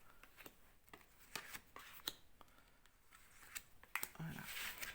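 Tarot cards being shuffled for a cross spread, a series of soft, quick riffling clicks and flicks at irregular intervals, quiet and close with no talk.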